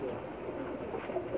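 A pigeon gives a soft, low, throaty coo close by.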